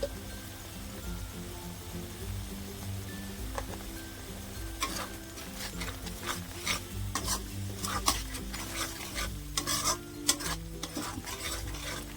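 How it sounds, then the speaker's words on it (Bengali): A spice paste with turmeric, salt, chilli powder and cumin powder fries in a pan for egg curry, with a soft continuous sizzle under repeated scraping and stirring strokes that grow busier toward the end. "পেস্টটা হালকা নাড়িয়ে ভেজে নেওয়ার পর এখানে হলুদ, লবণ, লঙ্কা গুঁড়ো আর জিরে গুঁড়ো দিয়ে আরেকটু সময় ভেজে নিয়েছি।"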